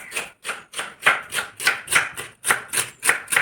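A knife chops spinach leaves on a board in a steady, close rhythm of about a dozen crisp strikes, each with a short leafy crunch, with no voices.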